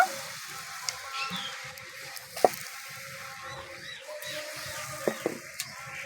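Batter for spicy cauliflower patishapta sizzling in oil in a frying pan, a soft, steady crackle heard close but quietly, with a few sharp clicks and knocks from the pan.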